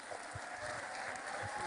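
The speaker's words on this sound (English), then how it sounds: "A round of applause for His Excellency." Audience at a university peace and development summit in Nigeria applauds a dignitary, a steady wash of clapping that fills the short stretch at moderate, fairly distant level with no talk over it.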